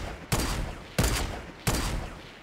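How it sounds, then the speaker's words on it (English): Three evenly spaced gunshots from a Fortnite battle royale match, each a sharp loud crack with a short decaying tail, about two-thirds of a second apart. "They're shooting at the people uh, northwest."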